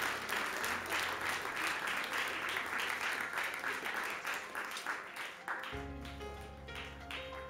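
Audience applause at a regional sportsperson of the year award ceremony in Mazovia as a trophy and flowers are presented, clapping that gradually thins out as music enters near the end.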